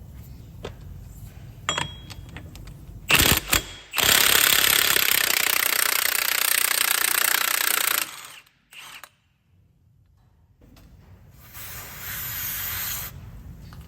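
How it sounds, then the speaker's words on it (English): A pneumatic impact wrench with a 32mm socket rattles loudly for about four seconds after short bursts, loosening the centre hub nut on a Mk3 Ford Focus front wheel, stops, then a quieter whirring follows, close by and with no talking. "the next thing we're going to do is just remove the centre hub nut"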